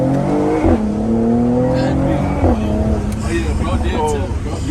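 A Mercedes-AMG GT53 revs up on a downshift while driving through downtown Miami at night, its engine note rising and falling loudly inside the cabin under people talking.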